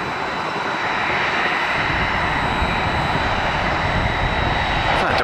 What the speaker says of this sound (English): We're gonna get a heavy jet.